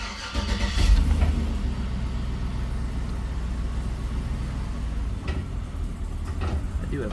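A car fitted with a swapped LS V8 engine cranks and fires, a loud low burst followed by a steady rumbling idle close by, with brief speech in the background.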